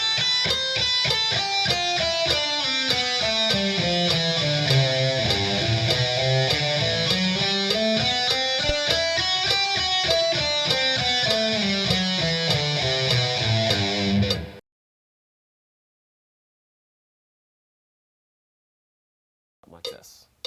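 Electric guitar runs connected pentatonic scales at 100 bpm, a steady stream of evenly spaced picked notes sweeping up and down in pitch for about fifteen seconds, then silence with a brief sound at the end.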